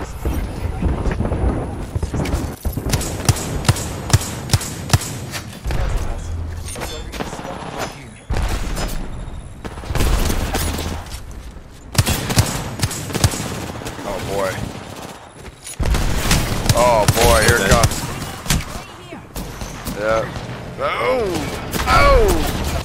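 Gunshots in a multiplayer shooter video game, rapid bursts of automatic fire and repeated sharp cracks in dense clusters across the whole stretch, near and loud, with people talking over them.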